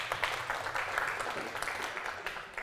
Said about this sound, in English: can we have a round of applause for our first guest speaker